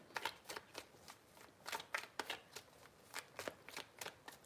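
Tarot cards are shuffled in quick repeated riffles, a crisp fluttering rhythm of short bursts, close and fairly quiet.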